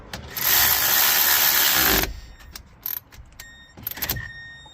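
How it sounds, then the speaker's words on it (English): Ratcheting wrench turning brake caliper bolts on a 2013–2018 Hyundai Santa Fe during front brake work, a loud continuous clicking run for about two seconds, then a few sparse, quieter clicks and taps. "I'm gonna take a 18th wrench, and I'm gonna turn them just like this"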